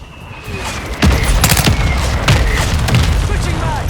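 Mortar strike in Call of Duty: Modern Warfare 2 multiplayer: several heavy, rumbling booms land in quick succession, loud and close, mixed with crackling gunfire and debris.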